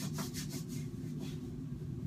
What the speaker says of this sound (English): Rub, rub, rub, rub, rub, rub, rub, rub, rub.